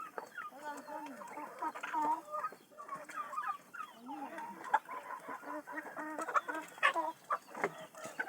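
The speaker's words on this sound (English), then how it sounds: "There are some chicken which are laying that side, isn't it?" Chickens clucking on a poultry farm in the early morning, a continuous mix of clucks and short calls from several birds nearby, with voices faint in the background.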